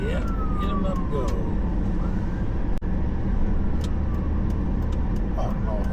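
A police car siren wails over busy traffic noise on a city street in Minot, North Dakota, its rising and falling sweeps loud and steady, with a brief sharp click midway and people talking faintly underneath.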